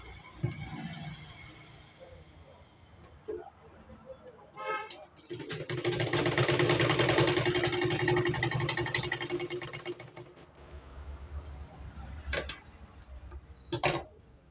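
A sewing machine stitching a small fabric piece for a turban cap hums in one steady burst of about five seconds, with fabric handling and clicks before and after it.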